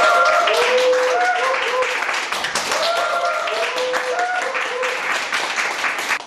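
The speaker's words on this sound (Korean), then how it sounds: "일단 뽑힌 레니에게는 잘하라는 의미에서 축하의 박수." Students in a classroom break into dense, close applause congratulating a chosen classmate. The clapping is steady and full for several seconds, with voices talking over it.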